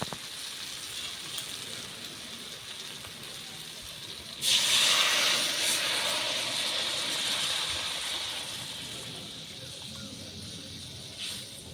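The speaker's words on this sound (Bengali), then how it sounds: "এবারে জল দিয়ে দেবো" Water poured into a pan of frying jackfruit curry, a low background hiss that bursts into a loud, broad steaming sizzle midway and slowly fades back down.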